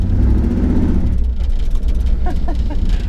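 A 1978 Ford Bronco that is running poorly pulls under load in second gear, its engine a loud, steady low rumble that fills the whole stretch without a break.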